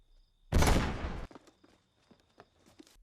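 A sudden loud burst of gunfire erupts inside a house and rattles for under a second, followed by faint scattered knocks and shuffling in a quiet space.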